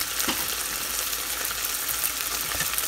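Beef frying in oil in a stew pot, a dense continuous sizzle and crackle, loud and close and unbroken throughout.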